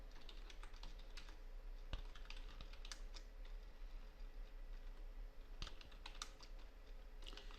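Steady clicking of a computer keyboard as code is typed, quick irregular keystrokes at close range over a low background hum, with no voice.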